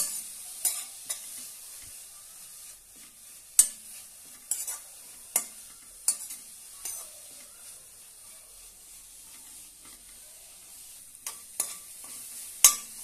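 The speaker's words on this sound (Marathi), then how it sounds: "छानपैकी भाजून घेऊया।" Grated bottle gourd roasts in a pan for kheer, with a faint steady sizzle under repeated sharp scrapes and clacks of a spoon stirring at irregular intervals, close by.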